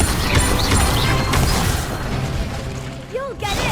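Incendio fire spell cast in Hogwarts Legacy, heard as loud whooshing, crackling bursts and crashing impacts amid dense game music and effects, with short swept tones toward the end.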